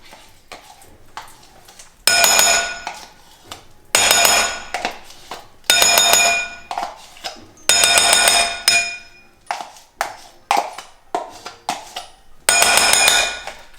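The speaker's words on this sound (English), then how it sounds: "Mix this up. With the cheese." Ricotta cheese is mixed in a bowl with a spoon, giving repeated loud clanking scrapes in steady bursts with brief pauses between them, close up and with no talking.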